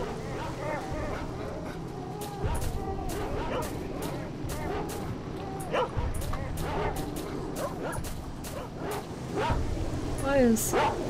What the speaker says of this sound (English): loads of those dogs,